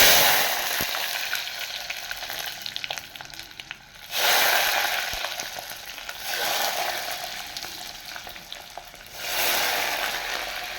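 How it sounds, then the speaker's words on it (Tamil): Garlic, mustard seeds and urad dal fry in a pan with a steady sizzle that swells into louder hissing bursts several times, close and with no talking. "அது அப்படியே வதங்கட்டும் கொஞ்சம் பூண்டு கொஞ்சம் வதங்கணும்"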